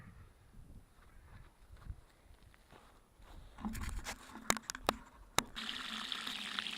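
Garden hose water running and splashing onto hay bales outdoors, a hissing spray that builds after a quiet start with a few sharp knocks and scrapes mixed in.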